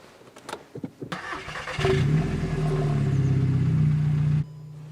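A Volkswagen Golf GTI with a 6-speed manual gearbox and a modified exhaust begins with clicks and short cranking bursts. The engine then catches and settles into a steady, fairly calm idle before cutting out abruptly, with no talking.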